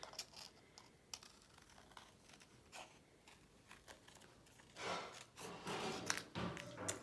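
Scissors snip through sticky-backed vinyl for a bracelet craft: faint, quick clicking cuts in an irregular rhythm, growing louder and denser toward the end.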